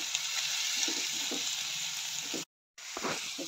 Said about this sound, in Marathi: छान व्यवस्थित कांदा परतून घ्यायचा